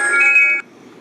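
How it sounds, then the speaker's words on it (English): A phone sounds an incoming call with a bright electronic ringtone, close and steady for about half a second before cutting off abruptly into near silence. "I have a phone call"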